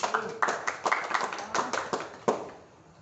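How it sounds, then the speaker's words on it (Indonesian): Scattered applause in a classroom for two students, a few people clapping in loose, uneven bursts close by, fading out near the end. "Berikan aplaus dulu untuk keduanya."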